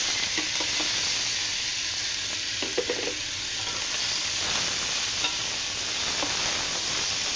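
Dried fish (chepa shutki) sizzling in a pan with chopped onion and green chilli, a steady close hiss with occasional stirring scrapes throughout, no voices.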